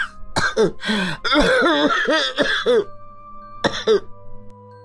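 Close, raspy coughing and throat clearing in several quick bursts, then a short pause and one more cough.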